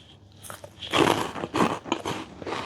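Herb-flavored puffed potato chips are bitten and chewed up close, giving several crisp, crackling crunches in quick succession, loud and alone without talk.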